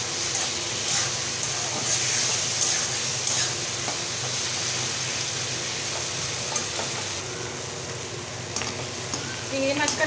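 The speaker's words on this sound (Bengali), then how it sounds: "চিংড়ি মাছটা একটু ভেজে নিই।" 400 grams of prawns fry in a pan with a loud, continuous sizzle and hiss, dotted with small crackles and pops throughout.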